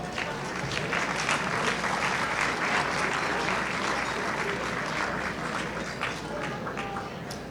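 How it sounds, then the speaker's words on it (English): A crowd at a gala event gives a sustained round of applause, thick continuous clapping that stays strong before easing slightly toward the end. "let's give a round of applause to our committee that worked very,"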